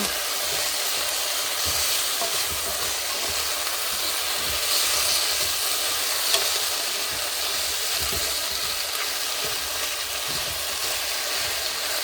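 A pan of goulash sizzles loudly and steadily while gravy mix is stirred in, a dense continuous hiss close up with faint scraping underneath and no pauses.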